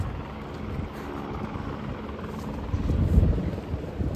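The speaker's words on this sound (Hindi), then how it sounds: "हेलीकॉप्टर" A steady low rumble of a helicopter drones throughout on the mountain trek to Kedarnath, swelling louder toward the end, mixed with some wind buffeting.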